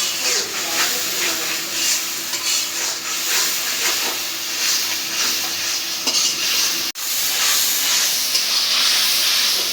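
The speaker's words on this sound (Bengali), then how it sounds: "আদা রসুন বাটা মশলাটা কষে নেব" Ginger-garlic paste masala fries and gets stirred in a pan, a continuous hiss and sizzle with scraping stir strokes and one sharp clack near the end.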